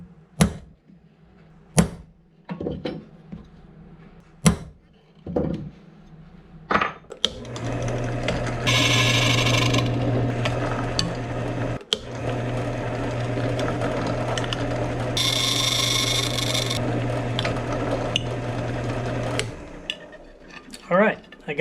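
A small drill with a 1/16 inch bit boring holes in a metal surf-casting jig lure, a steady whirring motor hum running for long stretches after a few sharp taps, with two higher-pitched bursts where the bit bites into the metal.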